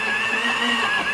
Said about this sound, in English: let's fire up the old blender